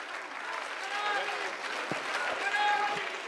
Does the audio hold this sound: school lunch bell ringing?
no